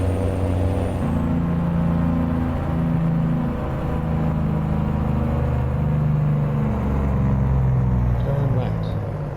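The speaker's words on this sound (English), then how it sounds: "let's open the windows so we can hear the engine roar" Mechanical truck engine in American Truck Simulator heard through open windows, a deep steady roaring drone with slowly shifting low tones, loud and continuous, with someone talking over it.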